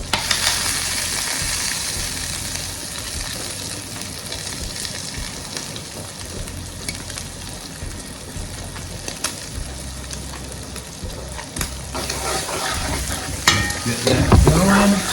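Grated garlic frying in a hot pan, a steady close sizzle with occasional stirring scrapes and clinks, growing a little busier toward the end.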